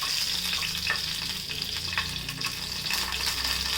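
Spices and ginger sizzle steadily in a hot pan while rasam is cooked, a close, continuous frying crackle with faint stirring and a low background hum throughout.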